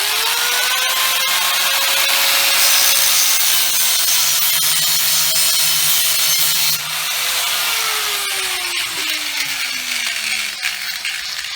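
A saw blade cutting a slot into the head of a stuck, rusted bolt, with a loud continuous grinding whine that rises and falls in pitch as the blade bites, close up with no speech.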